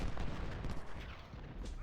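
Dense, continuous musket fire in the strategy game Ultimate General: Civil War at the First Battle of Bull Run, a crackling roll of overlapping shots and booms with no gaps, loud and steady throughout.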